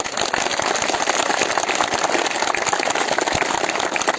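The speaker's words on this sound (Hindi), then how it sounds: "जोरदार तालियां" Loud, dense applause from a crowd at a BJP candidate's political gathering, continuous and steady throughout with no pauses or voices standing out.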